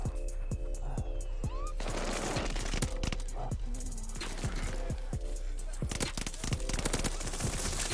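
Full-auto AS44 rifle fire in the shooter game Call of Duty: Vanguard, with rapid bursts of close gunshots alongside mechanical clatter and game sounds.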